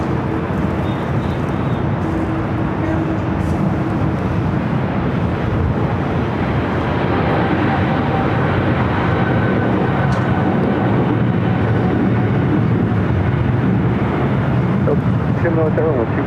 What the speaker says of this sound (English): Japan Airlines in the One World livery, the 777-300ER, taking off on the south side on the 25 right.